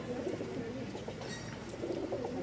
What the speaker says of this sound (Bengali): এই হচ্ছে 2 জোড়া কবুতর